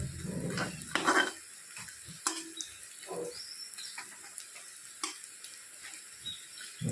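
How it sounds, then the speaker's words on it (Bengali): Oil sizzles with a steady soft hiss as mustard flower fritters fry in a pan, punctuated by clatters of a utensil against the cookware as they are flipped. "এক পাশ ভাজা হয়ে গেছে তখন আরেক পাশ উল্টে দিয়েছি"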